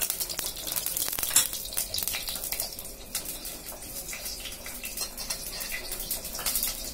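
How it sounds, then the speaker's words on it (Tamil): Mustard seeds and cumin frying in hot oil in a kadai give a steady, close sizzle with fine crackling and popping that continues throughout, without any talking. "கொஞ்சம் எண்ணெயில கடுகும் சீரகமும் போட்டிருக்கேன்"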